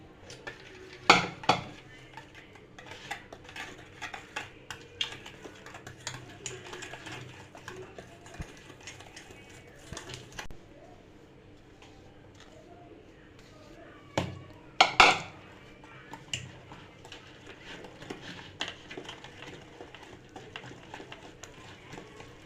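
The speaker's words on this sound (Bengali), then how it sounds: "দিয়ে ভালোভাবে আমি মিক্স করে নিচ্ছি।" Eggless chocolate cake batter being mixed in a bowl as dry ingredients are added bit by bit, with soft scraping and clinking of a utensil against the bowl, plus a few louder knocks, under quiet background noise.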